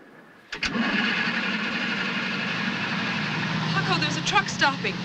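A car engine cranks and then runs, a steady loud mechanical drone with a sharp start, and a few higher squeals near the end. No speech is heard over it.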